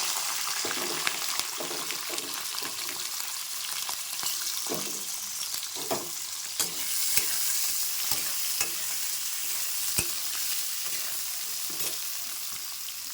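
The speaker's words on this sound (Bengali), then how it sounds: "তো দেখো তেলটা গরম হয়ে গেছে আর এবার আমি দেখো সব সবজিগুলো একবারে দিয়ে দেবো" Vegetables frying and being stirred in hot oil in a home kitchen, a steady dense sizzle with repeated scraping and clinking of the utensil against the pan throughout, no talking.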